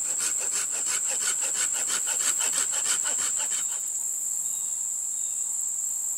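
A hand saw cutting through wood on both sides of the handle hole for a bushcraft hammer head, rapid rhythmic rasping strokes up close for about four seconds, then stopping into quiet.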